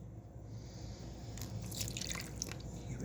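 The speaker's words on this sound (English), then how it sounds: "I'm going to add the milk in first." Milk pours into banana bread batter in a kitchen bowl, a faint, close trickle with soft splashes and drips.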